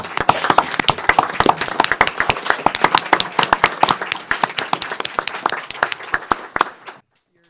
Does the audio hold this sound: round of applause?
yes